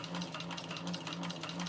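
A sewing machine stitches a tote bag in one continuous, even hum with a fast pulsing chatter, close and steady throughout the short stretch, with no talking.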